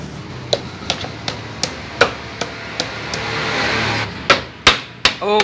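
A hammer striking during repair work on a Honda Tiger motorcycle, a series of sharp metallic knocks at irregular spacing, a few louder blows near the end over a faint background hum.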